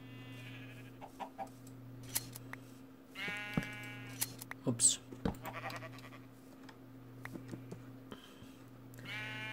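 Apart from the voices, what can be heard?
sheep bleating in the video game Minecraft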